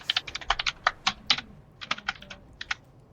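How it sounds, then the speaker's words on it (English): Rapid clacky computer keystrokes, close and fairly loud, in irregular bursts of sharp clicks with brief pauses between runs, no voices. "It's a very clacky keyboard."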